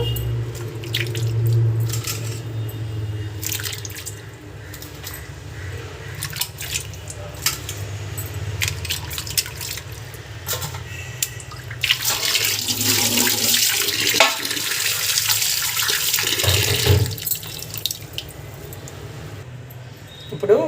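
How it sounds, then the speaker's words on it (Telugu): Water running and splashing as potato slices for chips are rinsed in a bowl, with trickling, dripping and occasional clinks of the dish, growing to a stronger gush in the second half. "వీటిని రెండుసార్లు నీటితో శుభ్రంగా కడిగేసుకొని పక్కన పెట్టేసుకుందాము"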